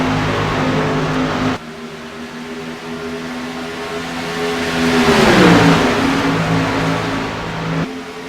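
Race cars accelerate on the oval at Daytona International Speedway, a loud steady engine drone with a pitch that dips and swells midway as cars sweep past, ending in a sharp cut.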